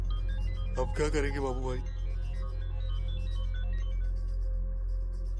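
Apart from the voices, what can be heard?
mobile phone ringtone ringing in a pocket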